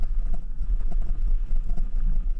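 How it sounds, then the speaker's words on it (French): A Honda Bros 160 single-cylinder motorcycle runs on the highway, its engine a steady low drone under constant wind buffeting at speed. There is no talking. "Ce qui me dérange, c'est le bruit du moteur."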